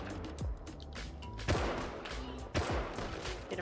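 Several sharp gunshots crack at irregular intervals in the survival video game Rust, with two louder reports standing out over a steady background rumble and faint voices.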